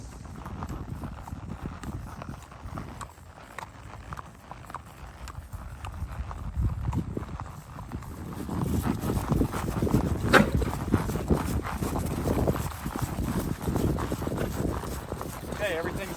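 Horses' hooves thud in a steady rolling rhythm on soft ground, growing louder and closer midway, with a breezy outdoor background.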